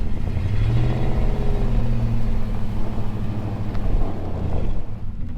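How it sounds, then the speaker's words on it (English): A Ford Raptor pickup drives through deep snow from the first major storm, its engine a steady low drone with rumbling wind and road noise throughout, close and continuous. "Just see how it drives, Colin."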